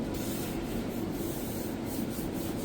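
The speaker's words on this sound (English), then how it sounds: "I'm gonna double check the sanding on this one." Steady, continuous scratchy rubbing of sandpaper against wood by hand, close up, with a rhythmic back-and-forth texture and no voices.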